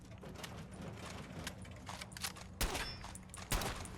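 Gunfire inside a building in Fallout 4: a quiet, continuous spatter of shots with two sharper, louder bursts near the end, no talking over it.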